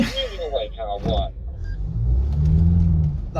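A new Land Rover Defender pulls away off-road, its engine rumbling up into a steady, swelling drone after a voice speaks briefly over it.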